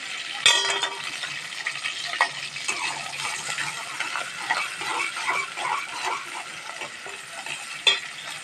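Sliced onions and curry leaves frying in oil for a tindora fry, a close crackling sizzle with repeated metallic clinks and scrapes of a spoon stirring against the pan.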